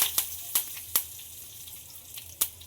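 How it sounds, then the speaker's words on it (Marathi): Mustard seeds, asafoetida and curry leaves sizzling in hot oil: a soft continuous fry with several sharp crackling pops spaced irregularly, close and fairly quiet. "अर्धा चमचा राई टाकून घेऊया आणि हिंग, कढीपत्त्याची पानं"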